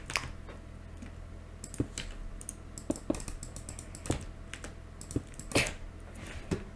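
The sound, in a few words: typing on a computer keyboard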